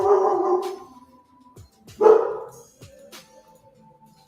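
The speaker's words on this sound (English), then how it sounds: "you hear that dog bark? That's a watchdog bark." A pet watchdog barking nearby indoors: two loud, deep barks about two seconds apart, each followed by softer trailing yips and whimpers, with no talk over them.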